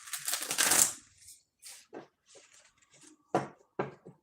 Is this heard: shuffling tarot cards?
yes